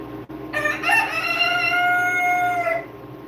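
A rooster crows in one long drawn-out call, close and clear over a quiet background, with faint clucking around it and no talk.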